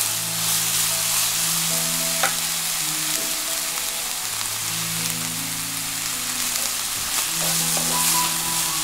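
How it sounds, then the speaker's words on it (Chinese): Garlic, chili, onion and seasonings for crab curry fry in a wok, a dense continuous sizzle with steady stirring scrapes and light clinks throughout. "翻炒均匀。"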